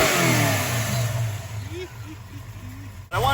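A 1974 Dodge Dart's Magnum V8 engine revs loudly up close, then drops back toward idle, with a brief rise again at the end.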